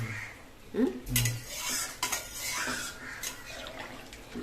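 Potatoes being stirred and sautéed in a pan for a coconut-milk egg curry, a spoon scraping and knocking against the metal pan in short irregular strokes under a soft frying hiss, close by.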